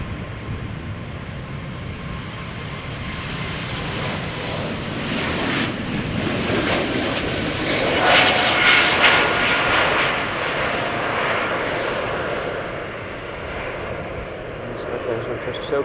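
An airliner takes off at Schiphol Airport, a broad, continuous engine roar that swells to a peak midway and then slowly fades over about sixteen seconds.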